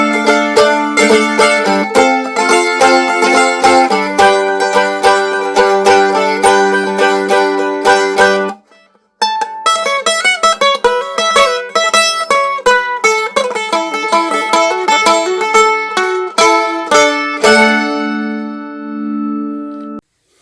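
A homemade mandolin with a back cut from a Georgian tabletop, played solo up close: bright picked and strummed notes ring in rapid runs, break off briefly near the middle, then resume and fade out on a final sustained chord.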